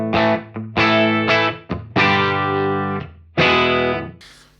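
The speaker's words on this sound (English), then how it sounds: "A little bit of break up there, but pretty gentle at that level," An electric guitar played through a 1967 Marshall JMP amplifier strikes a short run of ringing chords with a mild overdriven breakup, each chord decaying before the next, up close and loud with no talking.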